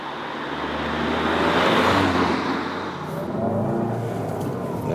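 A Seat Leon Cupra 300 hatchback with manual gearbox cruises on the motorway, a steady broadband road and engine roar with tyre noise, swelling slightly and then easing, heard from inside the car without talk.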